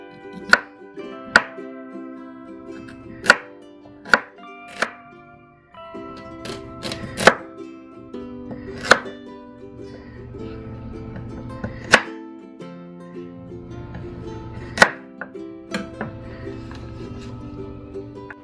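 A knife chops a peeled carrot into small pieces on a board, giving sharp, uneven knocks spread across the stretch with quiet gaps and soft handling noise between cuts, and no talking.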